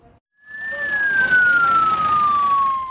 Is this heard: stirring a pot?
no